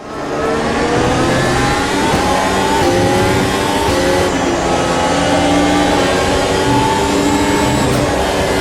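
A simulated race car engine in the Automobilista 2 racing game revs high and climbs through the gears, loud and continuous for the whole stretch. Shifts and pitch sweeps repeat, and no one speaks.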